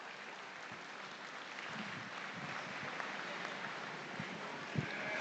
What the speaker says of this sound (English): give them a big, big round of applause